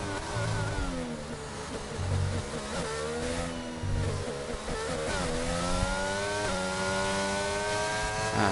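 Formula One race car engine in a British Grand Prix racing game, revving hard near Stowe with steady high-pitched whine rising through quick gear shifts, loud and continuous with no talk.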